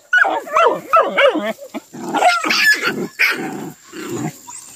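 Hunting dogs on a paca hunt bark and yelp in rapid overlapping bursts, loud and close, with a thin steady tone running beneath.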